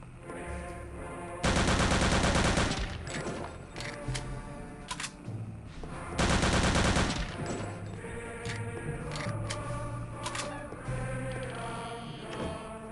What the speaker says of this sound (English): I'm just gonna shoot you